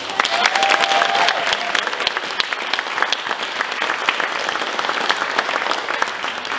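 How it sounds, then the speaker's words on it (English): Audience applause at a young folk music night of the Mull of Kintyre Music Festival, a dense, steady clapping from a crowd lasting several seconds without a break. "So I think they deserve a big round of applause."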